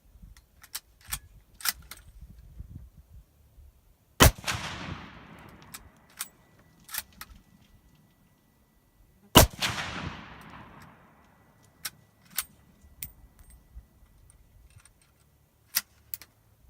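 Two loud, sharp rifle shots from a CZ 527 chambered in 7.62x39 firing Hornady 123 grain loads, each with a decaying outdoor echo, separated by several seconds and surrounded by faint clicks and ticks.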